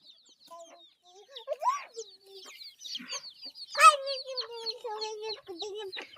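Village chickens and roosters on a rural poultry farm cluck and call in a busy, overlapping run of short squawks and a longer cry, fairly close, with occasional background voices.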